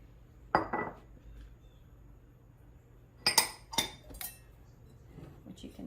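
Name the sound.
mixing flours and spices in a bowl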